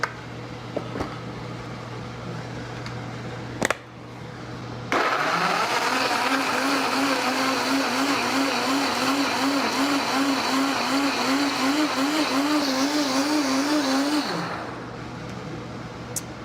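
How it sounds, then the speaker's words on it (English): After a sharp click, a blender roars to life blending melon and whirs loudly and steadily for about ten seconds, its pitch wobbling, before spinning down. "I know I have a good blender."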